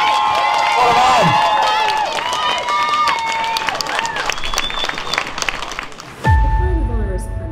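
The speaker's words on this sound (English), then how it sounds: "give a big round of applause" A crowd at an outdoor freedom rally on the Isle of Wight cheers, whistles and claps loudly after a speech, shrill whoops over steady applause, then an abrupt low rumble takes over near the end.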